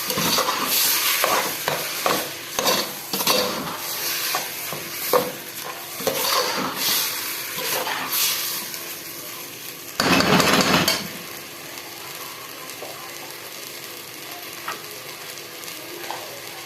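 Fish, rice and onions sautéing in a hot pan, a steady loud sizzle broken by frequent scraping stirs and a brief louder burst of hissing near the end, with no talking.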